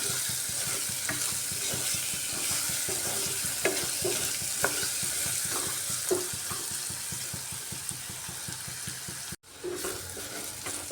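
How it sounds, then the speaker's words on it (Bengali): Onions fry in a pan until soft and brown: a loud, continuous sizzle with regular rhythmic scrapes of stirring throughout, broken by a brief dropout near the end. "এভাবে পেঁয়াজটাকে একটু ভাজা ভাজা করে নিচ্ছি, যাতে করে পেঁয়াজটা সফট হয়ে যায় আর ব্রাউন ব্রাউন কালার চলে এসে পেঁয়াজের মধ্যে।"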